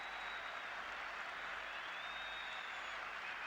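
A vast Irish crowd at Windsor Park in Belfast roars and applauds as the Northern Ireland and England teams come out on a packed, sunny day, a continuous distant wash of noise.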